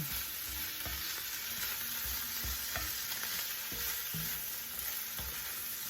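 Cabbage cooking in a pan for pancit bihon, giving a constant low sizzle with occasional soft utensil stirs and knocks, fairly faint and steady.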